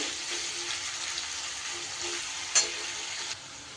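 Steady sizzling of onions frying in a pan, a constant hiss with one brief clink of a utensil near the end.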